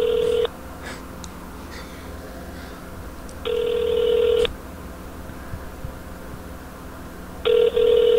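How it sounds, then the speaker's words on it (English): Telephone rings in Team Fortress 2, three separate electronic ring bursts spaced a few seconds apart over a quiet, faintly noisy background, with no talk. "The phone's just ringing off the hook"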